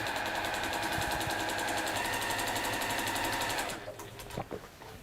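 Sewing machine chain piecing quilt fabric triangles, running in a fast, steady mechanical rattle for nearly four seconds before stopping, followed by a few faint handling clicks.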